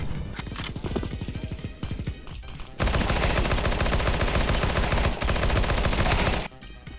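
Rapid bursts of video game gunfire crackle loudly, first in choppy volleys, then in a long, dense stream of automatic shots that cuts off abruptly.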